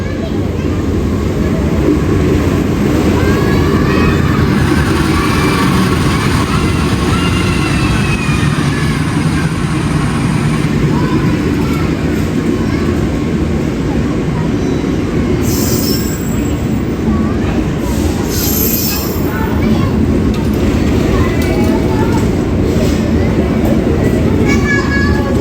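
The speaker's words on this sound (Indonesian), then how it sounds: "Argo Wilis masuk stasiun Surabaya Gubeng." The Argo Wilis passenger train rolls into Surabaya Gubeng station with a loud, continuous rumble of wheels on rails and high-pitched squeals of the wheels, heard from close by, with people talking over the noise.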